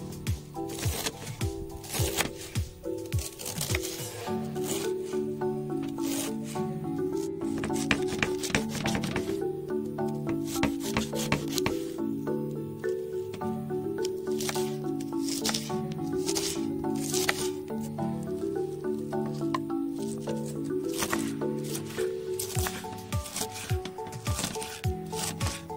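Cabbage sliced into small pieces with a knife, a busy stream of crisp crunchy cuts and board taps repeating steadily throughout, close and fairly quiet, without talk.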